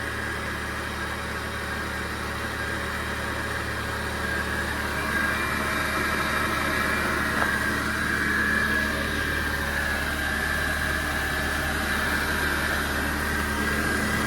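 A Chevy S10 pickup engine runs with the AC on during an R134a refrigerant recharge, a loud, close, steady idle drone with a thin whine on top that holds evenly for the whole stretch without talk.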